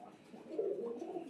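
Pigeons in a loft give soft, low cooing that swells in the middle and continues faintly.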